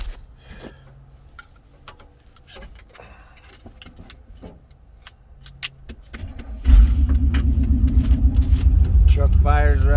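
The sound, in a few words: 1991 Chevy 2500HD truck engine starting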